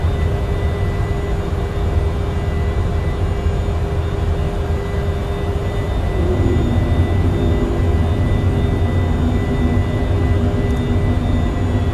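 Steady, loud jet engine roar and whine of an E-Jet airliner climbing out after takeoff from Helsinki in Microsoft Flight Simulator 2020, a continuous broadband rumble with a faint tonal hum and no talk.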